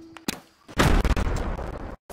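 Gunshots in the video game Fortnite: a sharp pop, then a loud sustained blast of booming gunfire with a roaring tail lasting over a second before cutting out.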